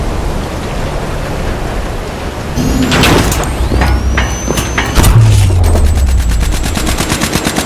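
Thunderstorm with heavy rain in a video game, set at a dock where a derelict tanker is being pushed in. Rushing rain noise throughout, with sharp cracks and rumbling booms building in the second half.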